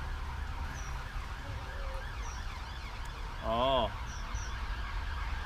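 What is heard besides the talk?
rooster crowing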